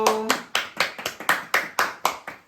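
A small group at a Bible doctrine school camp claps in a quick celebratory rhythm, about nine sharp, evenly spaced claps ringing out close and clear after a brief tone at the start.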